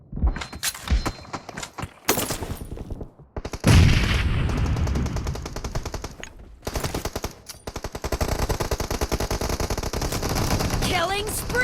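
M416 rifle fire in the mobile game PUBG Mobile, sharp rapid automatic bursts separated by brief pauses, close and loud, with a long sustained volley near the end and mechanical clicks between.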